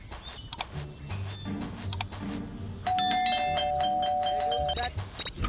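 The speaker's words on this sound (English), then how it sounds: "That stupid bell again." A video game doorbell in Scary Teacher 3D rings with bright electronic chime tones, preceded by a few short clicks and thumps, then a sustained multi-tone ding-dong that lingers for a couple of seconds.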